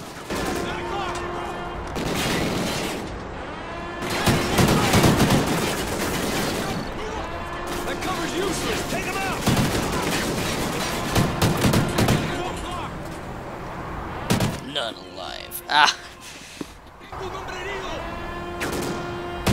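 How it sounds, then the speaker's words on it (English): Suppressing gunfire on an oil rig in Call of Duty Ghosts: dense, loud bursts of automatic weapon fire and crashing impacts come in waves, with voices shouting among the shots. "Lay down suppressing fire!"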